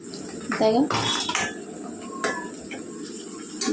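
Onions fried in a pan for chicken biryani, with sharp metal clanks of a spoon against the pan over a faint background sizzle, a few clattering hits early and then quieter scraping.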